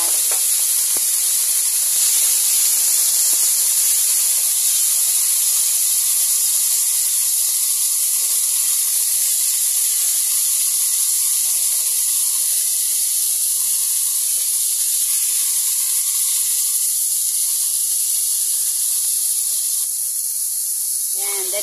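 Potatoes sizzling in a pan after ginger for a salmon soup, a loud, constant close-up hiss of frying that holds steady throughout without a break.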